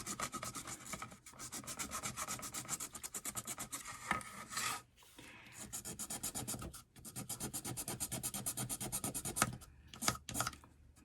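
An emery board rasps rapidly back and forth over a Dollar Tree craft pumpkin, making close, rhythmic scratchy strokes in long runs with a few brief pauses, and no talking.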